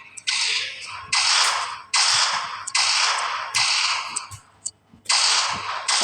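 Gunfire in a shooter video game comes in six sharp, loud bursts of rapid fire, each under a second long, with near-quiet gaps between them.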